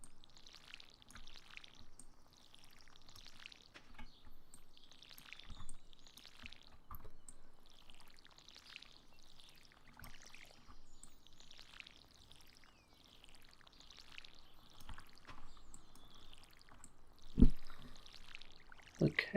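Watering can pouring water over freshly planted seeds in the Stardew Valley video game, heard as a run of repeated short splashing pours at a steady rhythm, moderately loud and close, with no talking over them.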